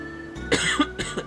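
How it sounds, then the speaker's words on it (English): Two or three harsh coughs in quick succession, close and fairly loud, with a short throat-clearing sound between them. "that's why I keep coughing"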